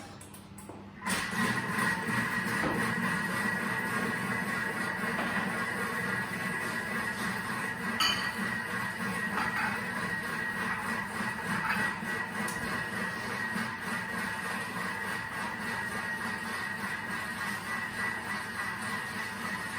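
A Thermomix TM6 mixes camembert and pear cake batter at speed 4, giving a steady, continuous motor whir with a faint tonal hum that holds evenly throughout with no voices.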